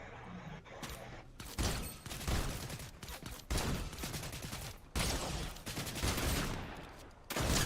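Rapid bursts of video game gunfire crack out loud and close, volleys separated by short gaps, with machine-gun rattles and single shots in a dense fusillade.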